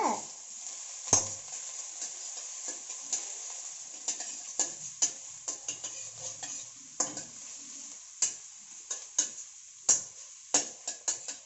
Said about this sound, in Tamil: இப்போ கருவேப்பில்லை இப்போ ஆனியன் இப்போ நல்லா ஃப்ரை பண்ணிக்கோங்க